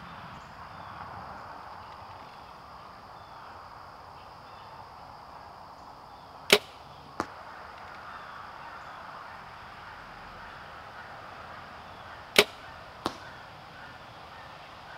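Two pairs of sharp arrow shots from a Prime Black 1 compound bow at about 42 yards, each release crack followed moments later by a fainter impact. Steady outdoor ambience with insects and breeze fills the background.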